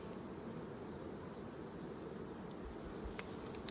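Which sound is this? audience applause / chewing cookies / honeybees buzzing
honeybees buzzing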